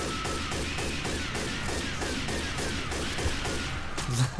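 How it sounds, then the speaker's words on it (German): Gunshots in the video game Left 4 Dead 2, a steady stream of rapid repeated shots at a regular rhythm, loud and continuous, ending in a few heavier thuds. "Ich werde jetzt die ganze Zeit in den Kopf schießen."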